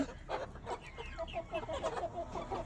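Soft, scattered clucking and chirping from several young chickens nearby, quiet and irregular.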